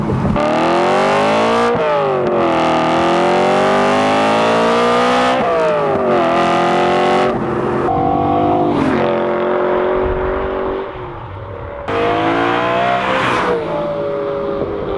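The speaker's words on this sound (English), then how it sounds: "it sings, it screams, and it is exactly how a V8 should sound" A BMW E92 M3's V8 engine revs hard and loud, climbing and falling through gears in a sustained, screaming howl with brief dips between pulls, close and alone.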